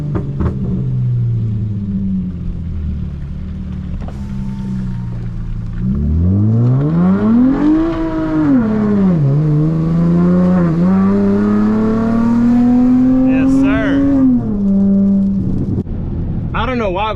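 A tuned V6 Dodge Charger revs hard in long rising and falling sweeps while the driver tries to slide it sideways, its engine loud and close, with people talking over it.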